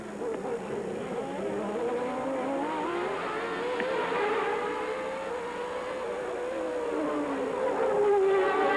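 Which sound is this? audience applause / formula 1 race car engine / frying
formula 1 race car engine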